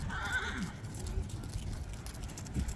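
A horse at an announcer-led riding event gives a brief whinny near the start, with faint shuffling afterward. Distant voices and ambient crowd noise carry on underneath throughout.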